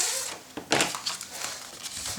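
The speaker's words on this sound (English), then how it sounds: "and make a fold line." Paper being creased along a fold line for a Graphic 45 mini album, soft close crinkling and rustling with one brief louder crackle.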